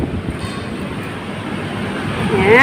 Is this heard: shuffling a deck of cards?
no